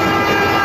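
A brief, loud, steady burst of a train sound effect, a sustained rumbling tone with no pauses, heard alone.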